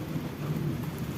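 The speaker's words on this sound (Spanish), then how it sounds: "No, pero pues sí está lloviendo." Steady rain falls outdoors in the countryside, a continuous soft wash of drops with no voices and no change in intensity.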